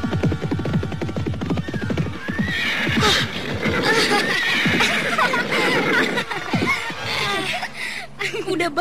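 A horse neighs and whinnies loudly and repeatedly, with hoof clip-clop and snorting mixed in, close by and dominating the scene.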